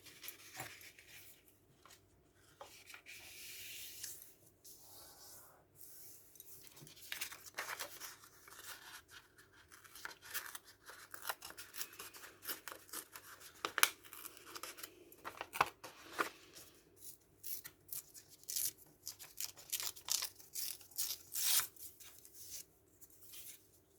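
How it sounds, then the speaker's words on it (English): Scissors snip through old book pages while junk journal cards are being made, giving faint, scattered crisp cuts and paper rustles at close range with no talking. "I can just cut it like this."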